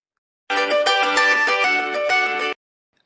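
A mobile phone ringtone plays a clear, melodic electronic tune for about two seconds, close and alone, then cuts off abruptly into silence.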